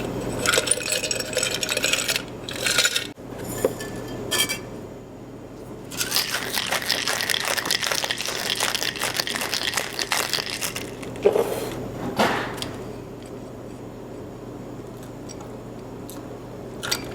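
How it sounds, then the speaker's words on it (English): Peppermint chocolate cold brew is shaken hard with ice in a shaker, a loud rattling clatter in bursts, followed by quieter clinks and pouring as it is strained over fresh ice. "we're going to shake it up and strain it over some new ice"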